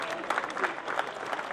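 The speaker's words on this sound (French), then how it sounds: "Voilà, on peut les applaudir s'il vous plaît." Applause from the audience at a race podium ceremony at Zolder circuit, a brief, even spatter of clapping with no talk.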